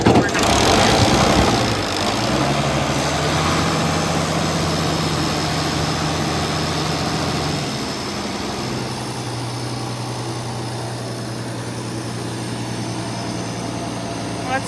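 Farm engine on a haylage-baling setup cranks briefly, then catches and settles into a steady, loud low idle that drops slightly in pitch partway through, running alone without talk.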